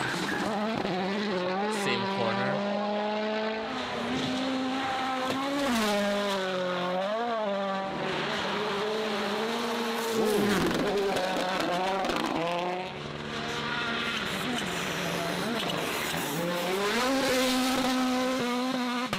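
A turbocharged rally car races at full throttle, its engine howling through rising and falling gear changes with tire skids on corners, loud and continuous for about nineteen seconds with little talk.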